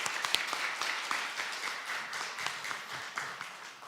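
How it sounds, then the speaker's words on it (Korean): An audience at a church concert gives a short round of applause, with individual claps distinct and fairly close, and the clapping easing slightly toward the end. "감사의 박수 한번 치도록 하겠습니다."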